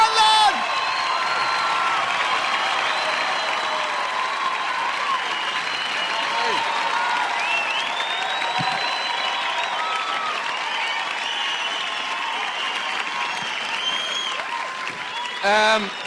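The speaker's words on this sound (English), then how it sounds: "Please give a huge round of applause" A theatre audience at a live stand-up comedy show at Vicar Street in Dublin in 2004 claps loudly and steadily for about fifteen seconds, with scattered whoops and cheers, before the applause fades.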